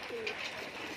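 A male pigeon with clipped wings coos softly, a short low murmuring call with a faint higher chirp nearby, close and alone without talk.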